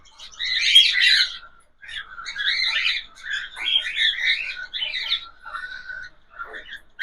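Cockatiel chicks being fed by their parents give loud, raspy begging chirps in repeated close bursts, separated by short silences.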